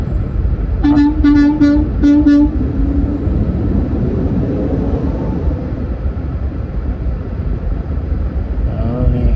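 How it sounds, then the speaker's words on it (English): A garbage truck horn honks several short blasts in a row over loud, rumbling traffic and engine noise, then the truck's engine drones on. "Was he honking"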